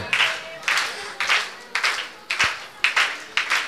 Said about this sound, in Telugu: ఇగో జొన్న రొట్టెలు చేయమాకండి, చప్పట్లు కొట్టండి.